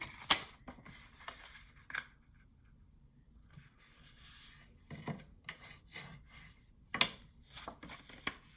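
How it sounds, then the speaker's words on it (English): A bone folder creases scored paper for a handmade Halloween mini album, giving quiet, close, intermittent rubbing and scraping strokes with brief pauses between them. "So I'm just going to fold all of mine in half with your little bone folder thingy."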